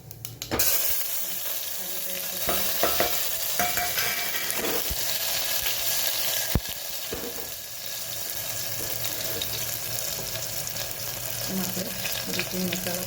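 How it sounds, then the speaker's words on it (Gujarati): Mustard seeds and cumin crackle and sizzle in hot oil, a dense continuous frying hiss close by with scattered pops and one sharp clack, and no speech. "અને મેં 3 પડી જેટલું તેલ લઈ લીધું. એમાં રાઈ એડ કરીશું, જીરું,"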